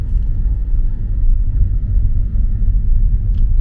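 A vehicle driving along a causeway dam on a small island near Bohol: a loud, steady low rumble of engine and road noise close up, continuous throughout with no talk.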